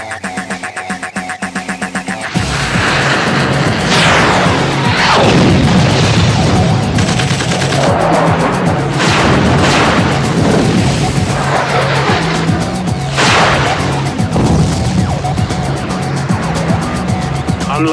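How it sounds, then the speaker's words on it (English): Heavy enemy gunfire and artillery in the PS2 game Dropship: loud, continuous combat din with repeated sweeping whooshes and booming blasts over a steady engine roar, after a brief quieter opening. "We're taking heavy enemy fire."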